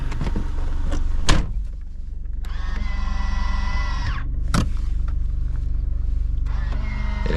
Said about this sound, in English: This vehicle also features power folding mirrors, which I will demonstrate for you right now.